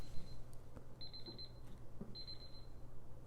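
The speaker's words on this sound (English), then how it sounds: "my alarm's going off" An electronic alarm beeps in repeated high-pitched bursts, two short series of rapid tones over a low steady hum in the room.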